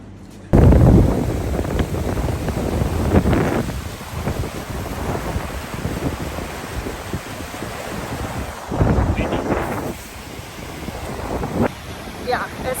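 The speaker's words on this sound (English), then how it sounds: "very windy." Strong wind roars and buffets the microphone in loud, rumbling gusts that swell and ease throughout, on a backpacking trek in Patagonia.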